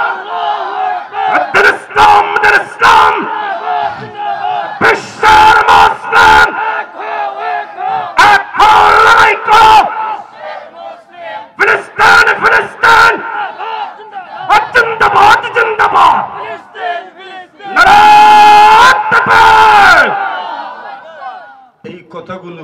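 A large crowd at a Bangladeshi religious sermon gathering roars back in unison in repeated loud chanted bursts, answering a preacher's call, with a strong amplified chorus and brief pauses between waves.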